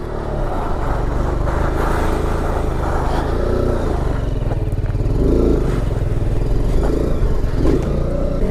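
A motorcycle engine drones steadily while the rider holds a wheelie, loud and near, with low rumble, light clatter and a few small throttle swells across the whole stretch.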